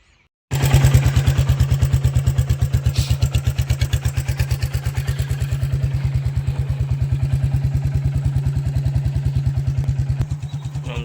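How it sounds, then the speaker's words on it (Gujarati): Royal Enfield Bullet motorcycle engine idling up close, a loud, even thumping beat that starts suddenly and runs steadily, its level easing slightly near the end, with no speech. "તમને એક વાર અમારા બુલેટનો અવાજ સંભળાઈ દેવું"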